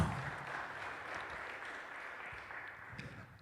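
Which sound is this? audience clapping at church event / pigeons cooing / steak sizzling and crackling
audience clapping at church event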